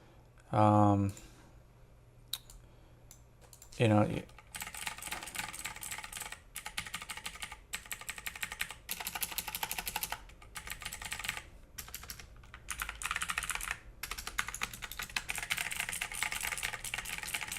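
Rapid clacky keystrokes rattle on a Logitech G512 Carbon mechanical gaming keyboard in uneven bursts, close up, after a couple of brief spoken words at the start.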